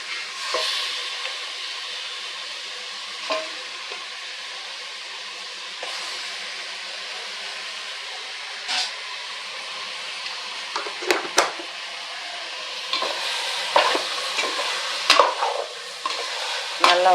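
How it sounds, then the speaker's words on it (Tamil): Chicken legs sautéing in a pot with onions for chicken leg biryani, a steady soft sizzle broken by scattered scraping stirs that grow busier toward the end, no voices. "நல்லா வதங்கட்டும்."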